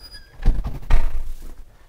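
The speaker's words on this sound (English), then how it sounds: "And opening the second door out into the garage," A door into a garage opens with two dull thunks of the latch and swinging panel, close and brief, followed by faint rustling.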